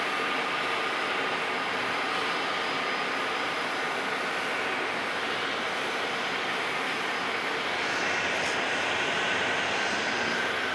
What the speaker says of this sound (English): Here's an A321neo.